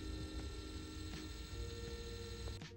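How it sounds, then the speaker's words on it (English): An HP Sprocket photo printer runs quietly while printing, giving a faint, steady mechanical whir with light ticking clicks and a soft click near the end. "and this is how the printer sounds."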